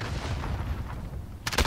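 Gunfire from an MP7 submachine gun in Call of Duty: Modern Warfare multiplayer, a dense, continuous rattle of shots with ambient battle noise, ending in a sharper close burst.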